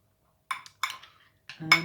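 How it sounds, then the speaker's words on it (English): Prawns, mushrooms and oregano with salt and pepper being stirred in a pan, three or four short scraping clinks of a utensil against the pan separated by quiet gaps, close and crisp, without talk. "I've put some oregano in the pan with the prawns and the mushrooms. So I'm just going to mix all of that up."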